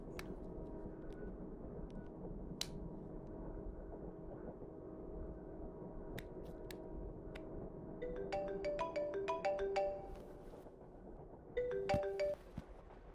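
Mobile phone ringtone from an incoming call, a short melodic run of bright electronic notes that repeats after a pause, moderately clear over a faint room hum and scattered clicks.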